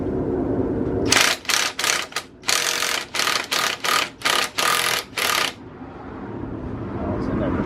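Ratchet with a 14 mm socket working a bolt on a Honda Super Cub C125 front end, a close series of about a dozen quick sharp clicking strokes in an uneven rhythm, over a quiet room background.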